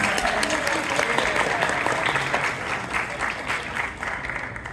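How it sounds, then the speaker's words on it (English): A comic con Q&A audience breaks into warm, sustained applause, many hands clapping densely before gradually thinning out. "Give him a round of applause."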